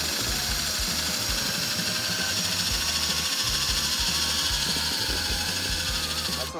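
A power driver sends self-tapping screws, without pilot holes, into a mount while fans are installed. The motor whirs continuously in close, repeated bursts over a steady background hum.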